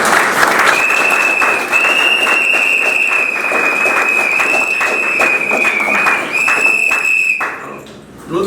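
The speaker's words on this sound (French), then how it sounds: "Nous voudrions ici applaudir pour les témoins," Wedding guests applauding a dense, loud burst of clapping that carries on for about eight seconds, with a sustained high whistling tone, likely microphone feedback, ringing over it before it fades near the end.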